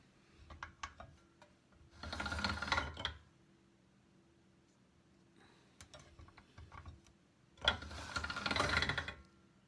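A pasta-style clay machine rolls polymer clay thinner. Two bursts of grinding, ratcheting crank noise are separated by a quieter gap with scattered clicks, all close and alone.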